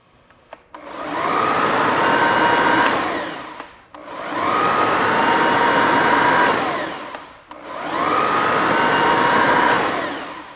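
Festool RO-90 DX multi-mode sander switched on and off three times, each run a loud steady whine of about three seconds that winds down audibly before the next start, with no talk.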